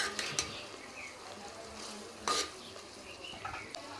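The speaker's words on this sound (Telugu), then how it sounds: "ఉల్లిపాయలు పచ్చిమిరపకాయలు వేసుకొని కలుపుకున్నాం కదా" Onions and green chillies stirred in a hot pan with a steady low frying sizzle, a few sharp spoon-on-pan scrapes and clinks standing out near the start and in the middle, close and moderately quiet.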